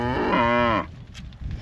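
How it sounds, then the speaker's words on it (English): A dairy cow gives one loud, close, drawn-out moo on a farm, followed by quieter barnyard background noise. "And there go the cows there."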